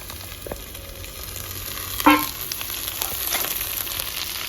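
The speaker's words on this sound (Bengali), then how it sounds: "লাল লাল ভাজা হয়ে গেল, এবার টমেটোগুলো দিয়ে দেবো" Onions frying in hot oil in a pan, a steady close crackling sizzle with a brief sharper clatter near the middle and a slight rise in intensity toward the end.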